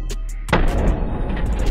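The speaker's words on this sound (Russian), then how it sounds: "Для нее я собрал топ-12 самых мощных, самых интересных, на мой взгляд, петард." A powerful firecracker bursts inside an old car, a sudden loud boom after a quiet moment, followed by a rumbling, crackling decay that fills the rest of the clip.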